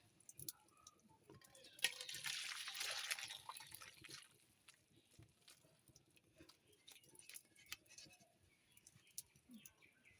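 Papaya curry with bata fish is poured from a pot, giving a soft liquid pouring whoosh of a few seconds, faint and close, followed by light scattered clinks and rustles.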